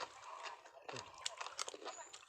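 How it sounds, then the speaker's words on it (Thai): Close, crisp crunching bites and chewing of a spicy beef dish, irregular bursts over about two seconds, quiet and intimate. "เสียงดังกรอบกรอบกินมาครับ"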